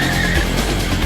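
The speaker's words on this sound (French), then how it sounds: "Les deux voitures accélèrent jusqu'à 120 km/h." Two cars accelerate hard toward 120 km/h in a brief, loud, broadband rush of engine and road noise, with a faint tire-squeal edge, close and continuous for about a second.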